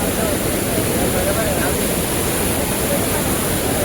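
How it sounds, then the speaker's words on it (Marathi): Heavy water crashing down the Napne waterfall in the Konkan, a loud, dense and unbroken roar that fills the whole stretch at close range with no pause. "भयानक चोचोत पाणी येत आहे"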